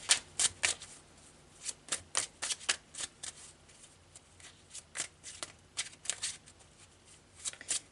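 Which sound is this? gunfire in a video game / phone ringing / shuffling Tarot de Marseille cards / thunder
shuffling Tarot de Marseille cards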